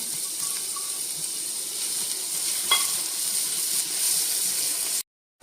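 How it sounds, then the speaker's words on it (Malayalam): Grated carrot sautéing in ghee in a pan gives a steady, close sizzle with light stirring scrapes throughout, a brief louder clink partway through, then a sudden cut to silence near the end. "ക്യാരറ്റ് നെയ്യിലേക്ക് ഇട്ട് നല്ലോണം ഒന്ന് വഴറ്റി എടുക്കണേ"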